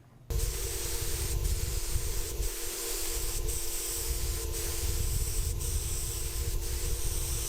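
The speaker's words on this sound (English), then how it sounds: "I could always use more practice using my spray gun" A steady, loud hiss of a spray gun spraying lacquer finish onto a pocket hole jig workstation starts abruptly and runs continuously, with faint periodic ticks in the background.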